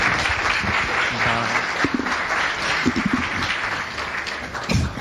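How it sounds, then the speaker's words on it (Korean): Steady audience applause fills a church thanksgiving evening celebration, a dense, even patter of many hands holding at moderate loudness throughout. "박수 보내주시죠."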